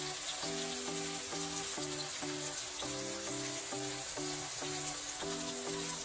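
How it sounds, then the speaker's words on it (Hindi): Spices go into a hot pan of oil for dhaba-style shahi paneer, a steady, fairly faint sizzle running throughout under a soft background, with no talk. "अब डालेंगे इसमें कुछ मसाले।"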